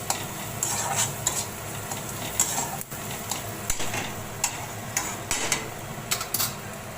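Clams are stir-fried in a pan: steady sizzling runs under a string of sharp clicks and clatters as the shells knock against the metal and the spatula. The sound is close and fairly quiet, and no one speaks.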